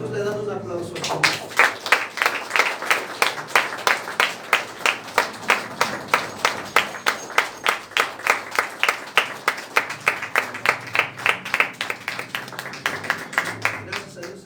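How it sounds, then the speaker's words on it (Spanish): A church congregation at a Sunday service claps in unison, a steady rhythmic beat of sharp claps that builds after a brief pause and continues evenly before slowing near the end. "Nosotros le damos un aplauso al Señor."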